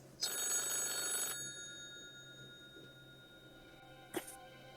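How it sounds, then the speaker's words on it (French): Telephone bell ringing in an old mansion, one long ring burst about a second long, then fading quiet and a short second chirp near the end. "Le téléphone sonne."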